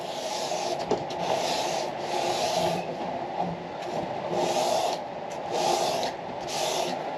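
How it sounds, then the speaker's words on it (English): Sandpaper is pulled by hand along the neck of a 1937-style Martin D18 acoustic guitar, making a loud, close, rhythmic rasping in repeated long strokes with brief gaps between passes. "But this way I'm pulling this sandpaper like this, it makes a, automatically makes a little half circle deal."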